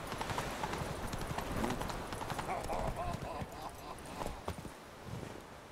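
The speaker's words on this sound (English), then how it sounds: "Catch a runaway horse." Horse hooves clop rapidly in a galloping rhythm in the video game The Witcher 3: Wild Hunt, moderately close, while a voice talks over the hoofbeats.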